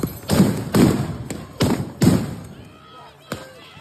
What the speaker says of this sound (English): They're just flashbangs.